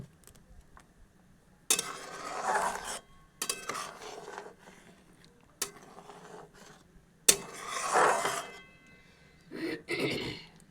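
Vermicelli with fried cashews and raisins is stirred in a pot, giving several separate bursts of spoon scraping and rustling against metal with quiet pauses between them.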